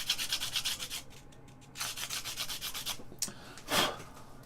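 Quiet rasping strokes from deburring the edge of a metal Amiga B2000 computer case panel: a quick run of rhythmic rubbing, a pause, then a few more scattered scrapes close by.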